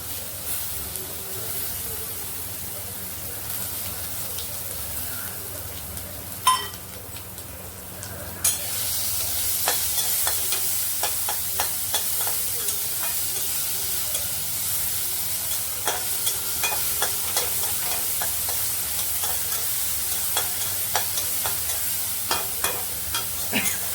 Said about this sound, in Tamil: அரைச்சி வச்சுருந்த இந்த நெல்லிக்காய் பச்சை மிளகா அதை இதில் போட்டுக்கிறேன்